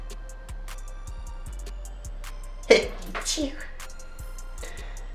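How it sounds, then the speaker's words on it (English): A single short, sharp sneeze bursts out midway, followed by a brief shaky exhale, against a quiet background of faint clicks. "I sneeze like a child."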